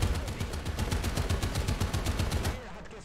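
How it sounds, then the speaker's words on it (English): A .50 caliber machine gun on an M41 tank in War Thunder, during a realistic tank battle, fires a long steady rapid burst of dense rhythmic shots, loud and continuous, then cuts off near the end. "And that 50 cal just doing its job."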